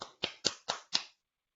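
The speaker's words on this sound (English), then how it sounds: "Round of applause." Five quick, evenly spaced hand claps, close and crisp, then silence: a short burst of applause at a virtual Industrial Cadets awards ceremony.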